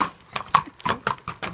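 Horses walk on a Sunday ride at a farm, hooves clip-clopping in an uneven rhythm of about eight moderately near strikes with no talk over them.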